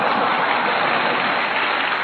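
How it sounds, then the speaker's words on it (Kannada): Audience at a live folk music show applauding loudly, a dense, steady burst of many hands clapping together with no pause. "ಒಂದ್ಸಲ ಜೋರಾಗಿ ಚಪ್ಪಾಳೆ ಕೊಡ್ಬೇಕು ನೀವೆಲ್ರು"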